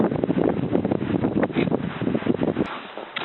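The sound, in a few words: wind blowing outdoors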